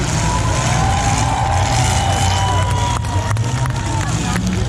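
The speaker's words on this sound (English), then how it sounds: "Let's make some noise for these 3 guys." Crowd noise at a demolition derby at the Alaska State Fair: a loud, continuous roar of spectators cheering over rumbling car engines, filling the whole stretch without a break.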